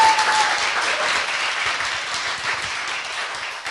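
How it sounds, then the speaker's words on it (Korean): Audience applause from a studio crowd, steady dense clapping sustained loudly throughout with no talking. "박수"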